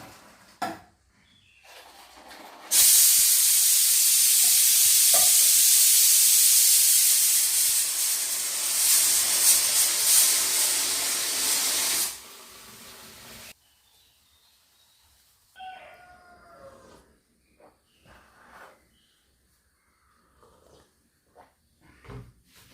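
Water heating on an outdoor stove for rice, a loud, broad steaming hiss that rises abruptly, holds for about ten seconds and then cuts off, leaving quiet with scattered small knocks and faint bird-like chirps.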